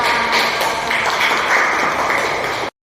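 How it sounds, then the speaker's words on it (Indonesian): Classroom applause for a student, a brief burst of many hands clapping together at moderate loudness, steady for a few seconds before cutting off abruptly. "Tepuk tangan untuk Citra"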